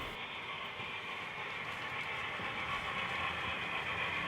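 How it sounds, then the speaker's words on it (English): An HO scale model train descends a helix on a layout toward a staging yard, giving a steady, even rolling rumble with no distinct clicks, constant in level throughout. "The train is going to be coming down at the bottom of the helix, going to our staging yard"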